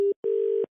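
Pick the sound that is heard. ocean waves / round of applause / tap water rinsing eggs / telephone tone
telephone tone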